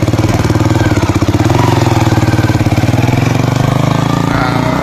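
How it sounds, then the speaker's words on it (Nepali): A motorcycle engine runs loudly and close by as the bike is ridden along a dusty road in Nawalparasi, Nepal, with a steady, rapid thumping pulse throughout. "हाम्रो ड्राइभरले बाइक चलायो"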